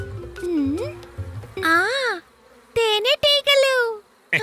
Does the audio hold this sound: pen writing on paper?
no